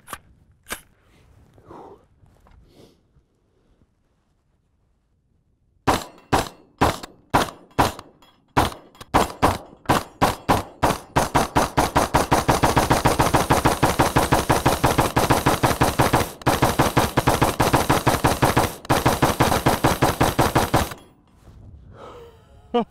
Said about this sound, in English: This thing's so much fun to shoot, especially with the drum mag.